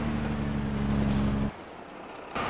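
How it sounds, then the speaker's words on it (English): A grain truck on an Iowa dairy farm idles with a deep, steady diesel drone. The air brakes give a sharp hiss, the engine then cuts out, and another hiss of air follows. "And I love the sounds on this truck."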